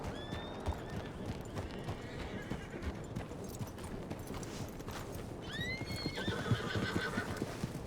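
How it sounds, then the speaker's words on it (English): A riderless horse neighs with rising whinnies while its hooves clip-clop steadily over a noisy outdoor background, fairly faint and at a moderate distance. "Another horse without a rider."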